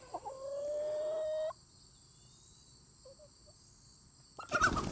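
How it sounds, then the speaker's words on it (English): A chicken squawks sharply after touching an electric fence, with one sustained loud call followed by quiet and a few faint clucks, then a brief rustling burst at the end. "The chicken touched it and it shocked it"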